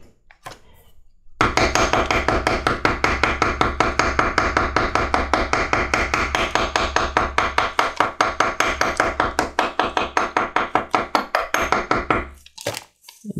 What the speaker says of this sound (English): take your setter for them and then just kind of tilt it around a little bit and roll it around as you hit it